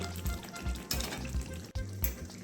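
Egg curry masala with a splash of water crackles and sizzles softly in a pan, with quiet irregular pops and light stirring scrapes.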